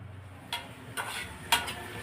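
Onions being fried and stirred in a pan before boiled chickpeas go in, with three brief scraping clinks of the spoon over a low, quiet sizzle.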